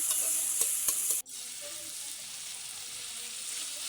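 Green chilies and chopped tomatoes fry in a pan with a bright, steady sizzle and a few light clicks; partway through, a sharp hiss as they drop in briefly dulls the sound, and a softer, lower frying continues.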